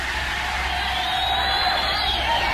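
A large concert crowd roars and cheers in a steady, loud, continuous wash of voices and whoops, sustained without a break from start to finish.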